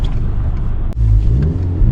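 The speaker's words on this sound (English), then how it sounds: "I'm sitting here revving it" A Volkswagen MK5 GTI engine revving from the driver's seat, a loud rumbling rise with a brief dip midway before the revs climb again.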